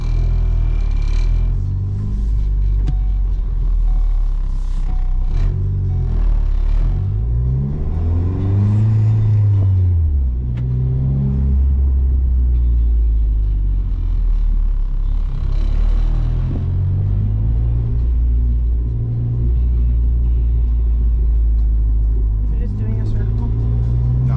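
A Ford ST driving after a spark plug change, its engine rumbling steadily and rising in pitch as it revs and accelerates in bursts, heard from inside the car with people occasionally talking over the sound.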